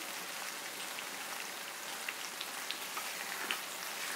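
Black urad dal halwa cooks in oil while being stirred, the oil separating from the mixture. A soft, steady crackling sizzle runs throughout with faint scattered pops and no talking.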